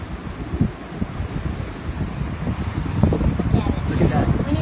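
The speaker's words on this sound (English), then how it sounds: "Feel the wind?" Strong, gusty wind from a tornado coming ashore roars steadily and builds toward the end, with rustling and buffeting on the microphone, while people talk nearby.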